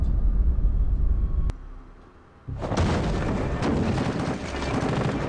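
Gunfire from a scene in The Walking Dead, a dense, rumbling burst of shots and booms at the start, a brief lull, then a loud, sustained barrage of rapid gunfire to the end.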